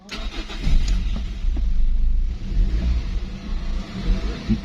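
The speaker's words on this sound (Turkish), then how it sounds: "Bak marşına basayım şimdi ben size bu arabanın" An old car with 297,000 km on it, engine cold, cranks and starts, then settles into a low, steady rumbling idle, close and fairly loud, with no talk.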